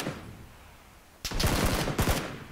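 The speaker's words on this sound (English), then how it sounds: "Shots, shots, shots. Shots, shots, shots. Watch my pistol." Pistol shots in a video game: after a quiet stretch, a quick volley of sharp cracks breaks out, pauses briefly, then another short cluster of loud shots follows, with no talking.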